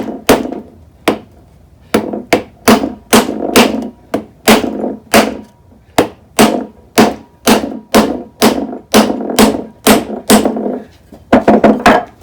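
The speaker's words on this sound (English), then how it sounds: "I got a piece of wood. I'll just keep hammering." A hammer strikes a piece of wood against a seized Yamaha TTR125 engine, about twenty loud, sharp thuds in a fairly regular rhythm, ending in a quick flurry of blows.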